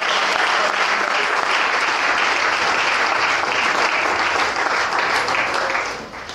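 A church congregation claps steadily, with dense, loud applause and some cheering that holds for several seconds before fading slightly at the end.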